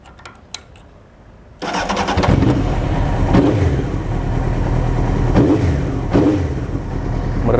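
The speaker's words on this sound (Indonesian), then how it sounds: "Terus kita langsung nyalain aja ya motornya." A Honda CBR 900 SC28 Fireblade motorcycle is started after a quiet moment, then its engine settles into a loud, steady idle nearby with a few small throttle blips.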